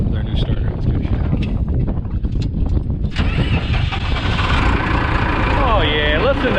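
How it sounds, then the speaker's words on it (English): An old John Deere 450B bulldozer diesel engine cranks then catches and starts running on one battery, a loud rough rumbling idle outdoors with wind noise. "Listen to that old diesel. That's on 1 battery. Start it right up."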